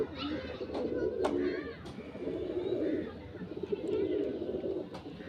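Punjabi pigeons, short-sized birds, cooing in soft low repeated rolls close by, with a few sharp higher calls and faint background voices.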